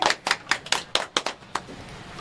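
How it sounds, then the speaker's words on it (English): A small audience at a music awards preview show gives a brief round of applause, a sparse, uneven run of about ten distinct hand claps over two seconds. "Round of applause for that."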